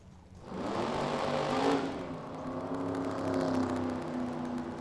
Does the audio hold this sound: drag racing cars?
yes